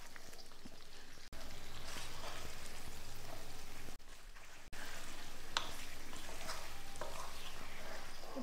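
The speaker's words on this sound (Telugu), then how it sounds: "ఇప్పుడు ఇదన్నీ ఒకసారి బాగా మిక్స్ చేద్దాం" Grapes and dates pickle being stirred in a bowl, a continuous close wet squelching and scraping with a soft crackle, broken by two short pauses.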